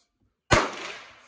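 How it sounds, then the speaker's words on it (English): A single AK-47 rifle shot fired with iron sights at a 100-yard target rings out as one sharp, loud crack with a lingering decaying echo after a short silence. "we're going to shoot 30 rounds from 100 yards."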